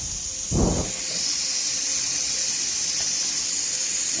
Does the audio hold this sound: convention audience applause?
no